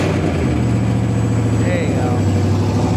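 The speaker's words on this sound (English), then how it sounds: "there's no exhaust on the truck right now, so it's pretty loud" A Chevrolet S10 truck's engine runs with no exhaust installed, a loud, steady, raw idle that fills the whole clip, with a brief spoken phrase over it.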